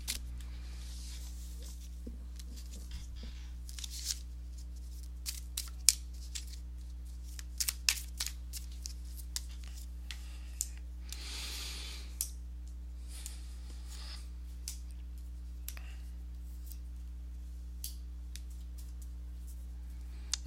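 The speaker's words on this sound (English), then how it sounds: "let me go ahead and give these cards a shuffle" Tarot cards flick and snap in quick irregular bursts, with soft shuffling rustles and occasional sharper clicks, close up over a low steady hum.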